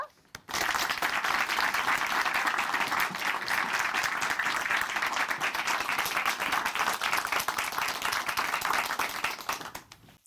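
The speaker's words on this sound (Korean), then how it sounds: "춘천 한마음교회 강다은 자매님 박수로 맞이해 주세요" A church audience claps steadily to welcome a speaker to the stage, dense applause rising abruptly after a short pause and holding at an even level before tapering off at the end.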